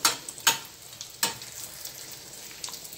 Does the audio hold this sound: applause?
no